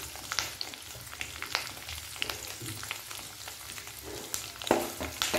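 Cashews, peanuts, dried red chilies and curry leaves fry in hot oil for temple-style tamarind rice, a continuous close crackling sizzle with scattered pops and stirring scrapes.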